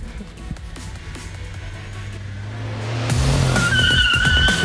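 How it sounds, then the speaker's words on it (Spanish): Kia Picanto and Chevrolet Corsa launching in a quarter-mile drag race, engines building into a loud, sustained roar with rising tire squeal and skidding toward the end, no talk over it. "¡Se va duro el Picanto!"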